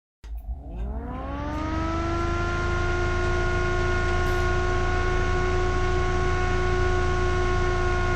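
An aluminum-bladed Prolimatech Vortex PC fan spins up from silence, its steady whirring hum rising in pitch with tonal whine over the first two seconds, then holding loud and constant, peaking around 49 decibels.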